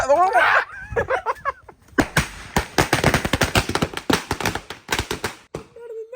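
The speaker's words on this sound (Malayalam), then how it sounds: "നമ്മൾ ഇതാ പടക്കത്തിന് തീ കൊടുക്കുന്നു" A paper bomb firecracker lit for Vishu bursts into a rapid, loud string of close crackling pops lasting several seconds, following brief talk at the start.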